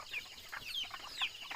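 Chickens cluck in short, quick bursts close by, several overlapping calls over a quiet outdoor background, with no talking.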